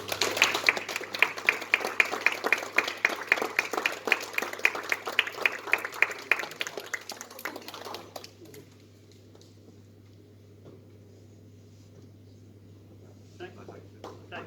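An audience at a snooker academy presentation evening claps in a lively, mixed round that tapers off after about eight seconds into quiet murmuring and a few stray sounds, with talk in the room.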